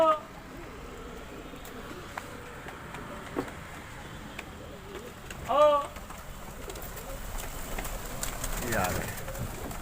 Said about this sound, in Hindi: ये हैं सारे कबूतर 90 जो उड़ रहे हैं अभी फ़िलहाल।